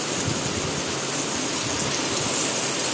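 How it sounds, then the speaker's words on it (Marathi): Heavy monsoon rain pours down in a dense, even, unbroken roar of water, close and loud, with no voices. "बघा कसं पाणी पडतंय"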